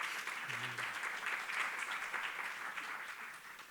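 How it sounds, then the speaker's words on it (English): Audience applause at a school reunion, a steady wash of many hands clapping, fairly distant and soft, lasting throughout with a brief voice near the start. "Round of applause for them, please."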